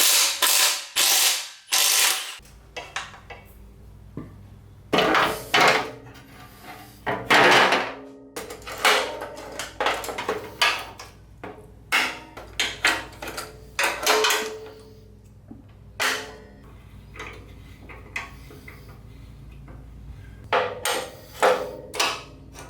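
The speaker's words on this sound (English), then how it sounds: "I can get it clamped pretty close on the table, benefits of having a fixture table" Clamps ratchet and metal parts clank as a broken Miata subframe is fixed down on a steel fixture table, with repeated loud ratcheting bursts and knocks in an irregular rhythm, close up and with no talking.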